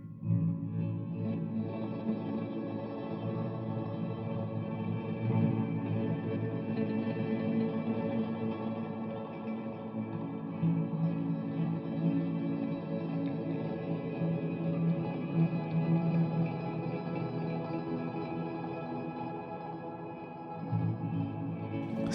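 Softly finger-strummed guitar chords through an ambient reverb pedal in mosaic mode, mix fully wet, wash together in a dense, swirling reverb, sustained and steady throughout with a brief dip near the end.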